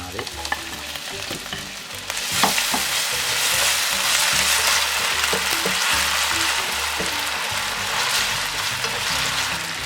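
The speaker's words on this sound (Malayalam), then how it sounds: "ഇതൊന്ന് വഴറ്റിയെടുക്കണം ആദ്യം" Chopped potato sautéing in hot oil in a pan, a steady loud sizzle that swells after the first couple of seconds, with occasional stirring scrapes and no talk.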